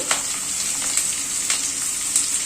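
Pointed gourd and papaya pieces frying in a pan for a vegetable curry, giving a steady close sizzle with brief sharper crackles, no talking.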